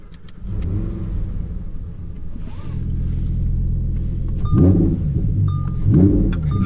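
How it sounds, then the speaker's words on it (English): Lamborghini Huracan Sterrato V10 engine, 2023 model, running with a steady deep drone that swells twice into short revving rises, heard close and continuous with no talking. "like this V10 that has so much character"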